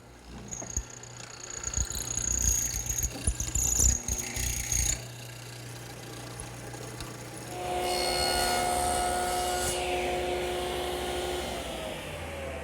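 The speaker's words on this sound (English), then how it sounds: "I've set up my dedicated mortiser with the 1/4-inch chisel, adjusted the fence, and set the hole down" A dedicated woodworking mortiser fitted with a 1/4-inch chisel cuts a mortise, producing irregular grinding thuds and rasps for several seconds, then a steady, louder motor whine through the rest.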